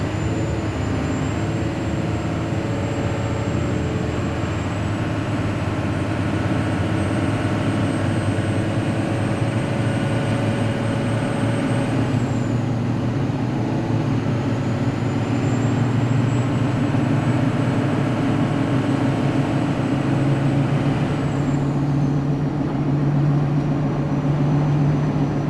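A Cummins diesel truck engine drones steadily and loud throughout while driving, stuck in first gear and not shifting, with a constant low rumble and a faint high whine that slides in pitch twice.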